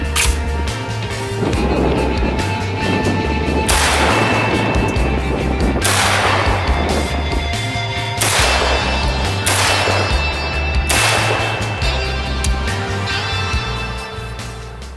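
A VEPR 12 gauge shotgun fires slugs and buckshot at cinder blocks outdoors, with about five loud, sharp blasts spaced a couple of seconds apart, each trailing off into echo.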